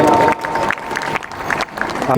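A school-day audience at St. Kathrene School in Ranchi claps and cheers to welcome sisters onto the stage, dense crowd applause filling the short stretch with overlapping voices.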